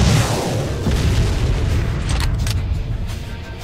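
A recoilless anti-tank weapon firing in the military video game ARMA 2: Operation Arrowhead, a loud, deep boom that starts at once and rumbles on in a long decaying roar.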